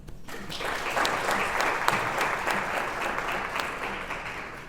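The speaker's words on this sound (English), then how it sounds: "Social Enterprise Ethiopia deserves a very loud round of applause for this" An audience at a social enterprise initiative launch in Ethiopia gives a steady round of applause, with dense clapping rising after a brief start and holding evenly throughout.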